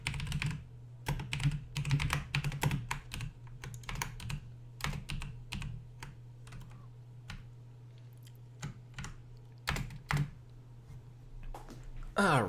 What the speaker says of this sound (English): I was typing out the alert to Discord